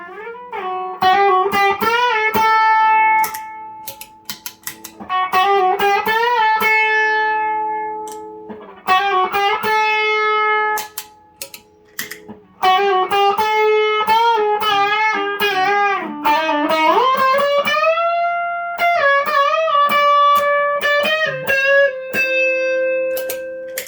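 An electric guitar played through Dan Drive and King of Tone distortion pedals rings out in clear, sustained overdriven chords and single notes, with pauses between phrases.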